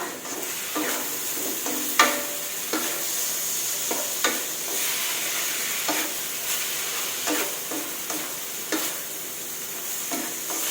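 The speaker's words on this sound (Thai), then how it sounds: "ขออนุญาตผัดกะหล่ำปีให้สุกก่อนค่ะ" Cabbage being stir-fried in a wok for home-style Hokkien noodles gives a steady, loud sizzle, broken by regular scraping strokes of the spatula against the pan every second or so, with no talking.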